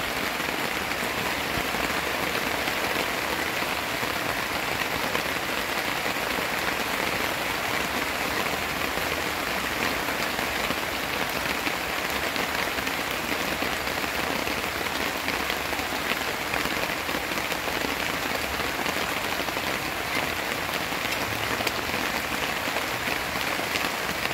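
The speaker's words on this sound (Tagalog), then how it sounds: "sobrang lakas ng ulan" Heavy rain pours steadily on a tent, a dense, constant hiss that never lets up, with no voices over it.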